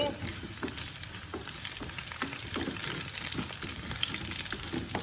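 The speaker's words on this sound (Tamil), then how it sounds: "வெங்காயம் நல்ல வதங்கினா தான் நல்ல வாசமாக இருக்கும்" Onions fry in oil until golden for a Tamil fish curry, a steady close sizzle broken by repeated soft stirring scrapes, moderately quiet and free of talk.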